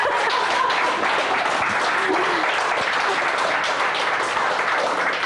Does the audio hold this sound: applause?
yes